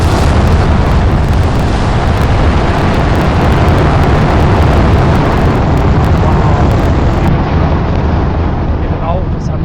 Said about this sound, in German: We have successfully launched the LVM-3M4 into space.